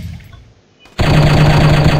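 Rapid automatic gunfire bursts in loudly after a near-silent pause in the shooting video game Striker, a dense continuous rattle of shots that fills the rest of the moment.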